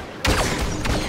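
A single blaster shot in Star Wars Battlefront 2 lands a headshot, a sharp zap followed by a second quick burst, loud and close against steady game ambience.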